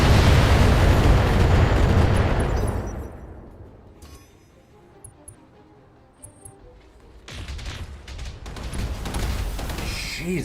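A combat mech unleashes an alpha strike in a strategy game, firing all of its weapons at once in a loud, roaring wall of explosive blasts that fades into quieter scattered impacts and then swells again.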